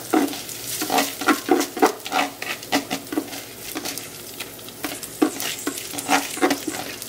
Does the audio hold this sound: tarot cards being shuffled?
no